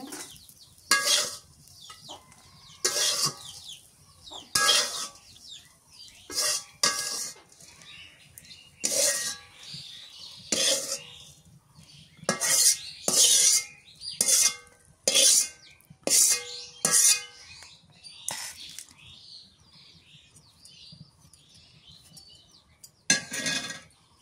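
Utensils and plates clink during lunch over a meal of bitter gourd and potato fry and tilapia fish head cooked with cauliflower: a long run of sharp, bright clinks in irregular clusters, close by, with no talking.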